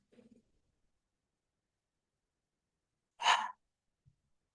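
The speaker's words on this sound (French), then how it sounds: "grande expire par la bouche" One big, forceful exhale through the mouth during a yoga vinyasa flow, a breathy close rush lasting about half a second, preceded by a faint short breath sound and followed by near silence.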